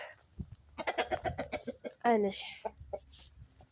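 Hens and a rooster cluck and fuss in bursts while being herded back into their coop, close by, and a voice speaks over them.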